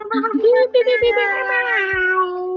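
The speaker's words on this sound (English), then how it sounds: "That was a cat sound." A loud, drawn-out meow close by, its pitch wavering as it stretches for a couple of seconds.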